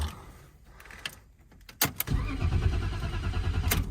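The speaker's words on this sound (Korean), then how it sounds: "세로는 돌고 크랭킹도 되는데 이제 시동이 걸리지 않는 상태예요" A 1992 BMW E34 M Tech engine cranks with a rapid churning whir after a brief click, turning over steadily for a couple of seconds without catching, a no-start fault.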